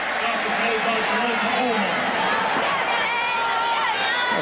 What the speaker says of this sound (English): a nice round of applause from the crowd